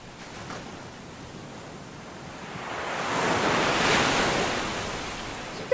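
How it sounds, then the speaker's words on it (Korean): Strong wind and sea waves build as a sound effect: a broad rushing roar that swells to a peak and then eases slightly, with no voices. "갑자기 바람이 세게 붑니다. 파도가 점점 거세지고 있어요."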